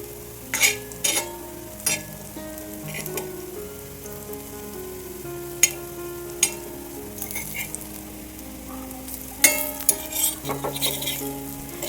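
Slices of jackfruit (neer phanas) frying in oil and turned one by one, a soft continuous sizzle broken by sharp utensil clicks and scrapes against the pan, with faint music underneath.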